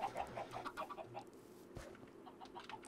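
Chicken clucking in the Minecraft video game, a string of short, moderately quiet clucks and squawks in the first second, then softer scattered sounds with a single sharp thud midway.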